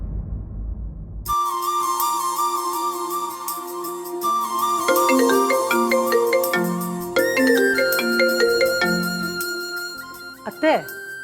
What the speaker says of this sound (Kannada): ಪ್ರಭುದು ಫೋನು